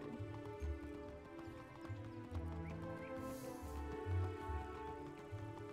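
A horse mount in the Wizard101 video game neighs and whinnies while hooves clip-clop in an even, repeating rhythm, moderately close and clear, with faint game music beneath.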